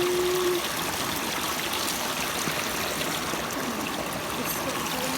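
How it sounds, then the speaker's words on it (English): A natural stream flows steadily with a continuous rushing and trickling wash of water, close and fairly even throughout, with no voices. "I'm gonna drink some water from the stream."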